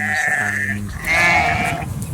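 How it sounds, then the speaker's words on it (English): Two lambs bleating in a field near livestock fencing, two close, wavering cries, one short and one longer, following each other over faint outdoor background. "Still waiting for cattle, here 2 lambs"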